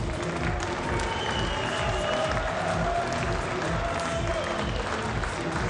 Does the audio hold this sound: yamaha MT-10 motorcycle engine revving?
no